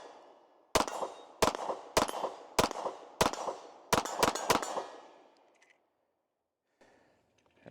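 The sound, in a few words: gunshots from Nighthawk Sandhawk Single Stack pistol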